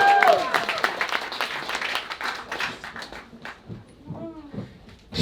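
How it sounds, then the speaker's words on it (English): Audience applause at a New York poetry reading, a steady round of clapping that fades somewhat over several seconds while voices and cheers rise through it near the end. "Keep your applause rolling for Ron Kolm."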